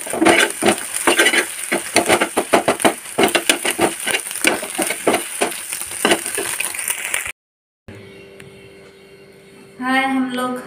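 Mixed vegetables for bhujia are stir-fried with a rapid run of scraping, clacking spatula strokes over a frying sizzle, then a gap of quiet room hum before a voice speaks.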